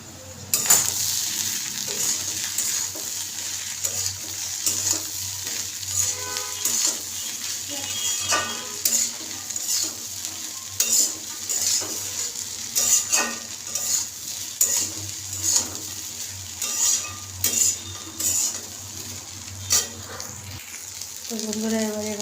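Flattened rice pulao with turmeric and salt is stirred in a pan, a spoon scraping and clinking against the metal in repeated strokes over a soft background sizzle for a long stretch.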